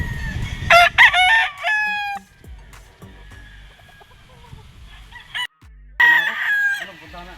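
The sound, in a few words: Harold Brown Gray gamefowl rooster crowing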